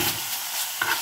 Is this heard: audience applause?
no